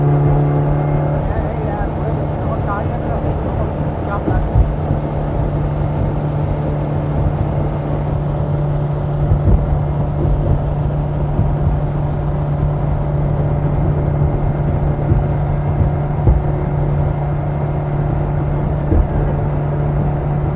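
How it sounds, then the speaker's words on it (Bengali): Speedboat ride on a river near Dassam Waterfalls, Ranchi, with a steady loud outboard engine drone throughout, water rushing against the hull, and passengers talking over the noise. "আমাদের স্পিড বোট রাইড চালু হয়ে গেছে।"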